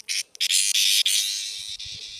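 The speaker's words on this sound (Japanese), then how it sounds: "セミがついてる。セミ。" A cicada clinging to a bamboo stalk gives off a loud, steady, close buzzing drone that holds continuously after a few brief stuttering starts, with faint low knocks underneath.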